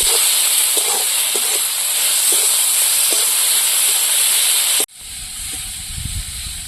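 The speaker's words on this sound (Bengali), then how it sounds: "হলুদ লবণ দিয়ে ভালো করে চিংড়ি মাছটা ভেজে নেবো।" Prawns fry with turmeric and salt in a hot pan, giving a steady loud hiss with faint crackles that cuts off abruptly near the end and gives way to a softer, lower sizzle.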